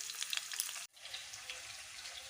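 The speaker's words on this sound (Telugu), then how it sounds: "కొంచెం దూరగా వేగేంత వరకు చేయాలి" Onions sizzle steadily in a hot pan for a puffed rice (borugulu) dish. The close, bright frying crackle briefly cuts out, then resumes as a continuous hiss with no voices.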